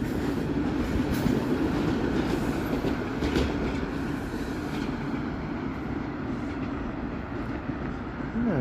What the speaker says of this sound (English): And there's a northbound subway train.